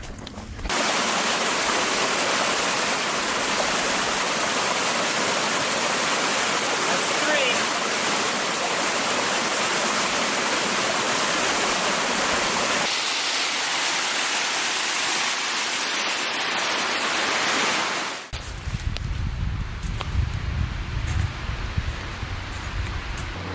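A waterfall at Sprague Land Preserve: steady, loud rush of falling water fills the scene with broadband roar, shifting near the end to a closer, deeper churning.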